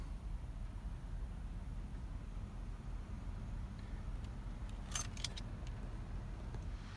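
Car keys on a 1974 Buick Gran Sport jingle briefly as the key is pulled from the ignition, a short quiet metallic cluster around the middle over faint low background rumble.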